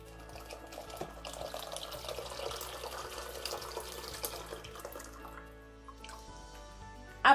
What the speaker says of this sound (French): Maintenant, je viens ajouter mon litre d'eau.